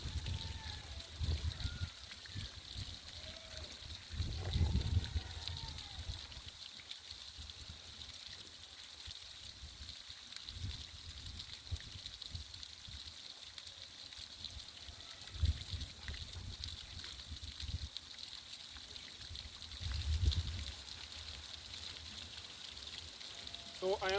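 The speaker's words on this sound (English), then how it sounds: "it is actually the water is actually running from the pipe" Water runs steadily from a pipe in a garden bed of pepper plants, a soft continuous hiss and splash heard close by throughout, with a few louder bursts and gusts of low rumble.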